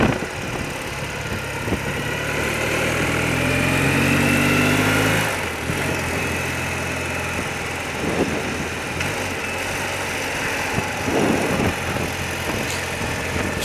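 Old motorbike engine running while riding out past a village, a steady mid-pitched drone that swells for about five seconds and then settles lower under road and wind noise, with no voices.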